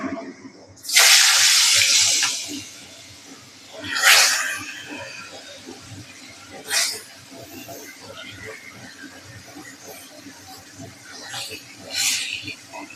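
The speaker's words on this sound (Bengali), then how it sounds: "এবার আমি একে একে মাছগুলো একটু দিয়ে দেবো কড়াতে" Tilapia pieces drop one by one into smoking-hot oil in a wok; each drop sets off a loud hissing sizzle burst that fades into a lower continuous crackle.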